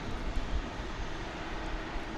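Airplane at DFW Airport at night, a steady broadband engine roar heard from a distance, even in level throughout with no talking.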